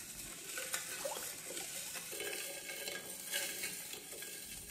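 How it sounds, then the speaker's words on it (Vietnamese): Spoon stirring sugar into a mix of coconut water and filtered water while making coconut jelly, soft continuous swishing and light clinks, fairly quiet and without talk. "Khuấy cho đường tan bớt"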